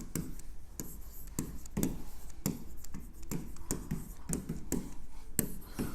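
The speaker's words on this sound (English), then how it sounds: "So now in this you can see that Shrikant is using his pen, I'm using a pen, I'm writing on black, he's writing on red." A pen taps and scratches on a Duo digital whiteboard in a rhythmic run of short, close strokes, quiet and steady with no talking.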